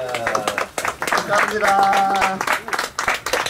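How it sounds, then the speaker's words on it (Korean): Brief clapping at a ceremony in a historic traditional house, broken and irregular, mixed with overlapping voices and a person speaking over it. "같이 일어서셔서 다 같이 모두 박수로 축하해 주시기 바랍니다"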